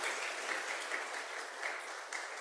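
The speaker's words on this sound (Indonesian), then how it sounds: "Mari kita tepuk tangan bersama-sama yang sudah datang bersama dengan kita." Congregation applauding at an academic chapel service, steady dense clapping from a large group, heard from a distance and continuous throughout.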